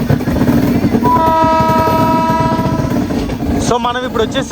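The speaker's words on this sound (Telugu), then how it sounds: "రోడ్ కమ్ రైల్వే బ్రిడ్జ్ మీదకి మన ట్రైన్ అయితే ఎంటర్ అవుతుంది" A train rolling onto the road-cum-rail bridge on the Rajahmundry to Vijayawada route, a steady loud rumble of wheels and carriages with a sustained horn-like tone partway through, with voices faintly in the background.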